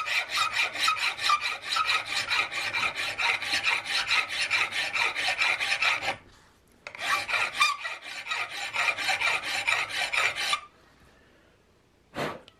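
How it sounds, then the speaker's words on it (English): A large flat file chamfers metal edges in long, even rasping strokes, a rapid rhythmic scraping close by in two sustained bursts separated by a short pause, then a brief final stroke. "I really like to clean up and chamfer some of these edges a little bit. I think it gives them a quick little cleanup. I want a large flat file for this."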